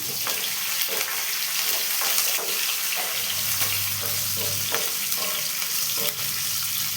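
Green chillies and ginger sauté in a pan for rava kichadi, giving a steady, close frying hiss with a few soft stirring scrapes throughout.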